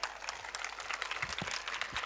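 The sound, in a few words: audience applause at a school annual function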